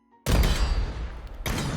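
A modded gun fires in the VR shooter H3VR: a sudden loud burst of rapid automatic fire that rings on, then a second burst starts near the end, with no voices.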